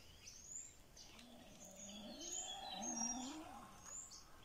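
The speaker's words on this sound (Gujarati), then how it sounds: "તમે જોઈ શકો અહીંયા પશુ પક્ષીઓનો અવાજ આવી રહ્યા છે" Birds chirp and call softly in Gir forest, Gujarat, with several faint tweets and a low cooing call drifting through quiet, distant woodland ambience.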